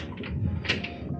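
A wardrobe door in a Disneyland Paris Dream Castle Hotel room opens with a short creak and a soft wooden clunk, close by and moderately loud, with no speech.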